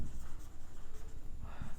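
Pen or pencil writing math on paper, a close, soft scratching that comes in short strokes with brief pauses, no talking over it.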